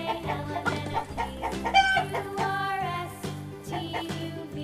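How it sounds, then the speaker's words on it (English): Animated hen clucking over a busy musical backing track, its calls blending with bright melodic tones and steady rhythmic accompaniment throughout. "H for hen."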